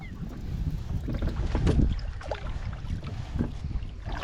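A Tucktec folding kayak is paddled and turned around in shallow bay water at low tide, with soft water swishes and strokes under steady wind buffeting the microphone.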